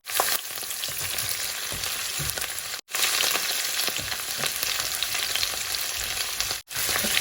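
Kale and chili stir-frying in a pan, a dense continuous sizzle with scattered stirring scrapes, close and strong, cut by two brief gaps.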